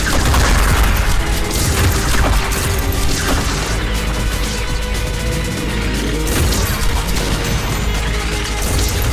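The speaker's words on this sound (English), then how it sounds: "the parrying does cause an explosion" Loud, dense burst of explosive booms and crashing impacts from parry explosions in the fast-paced shooter game ULTRAKILL, with continuous layered blasts and gunfire-like clatter filling the whole stretch.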